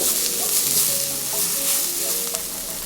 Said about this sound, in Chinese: 先大火爆香花椒和辅料